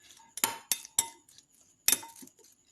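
A spoon clinks against a bowl while okra masala with a pinch of asafoetida is mixed for a microwave recipe: a few sharp, quiet metallic taps with gaps of silence between them.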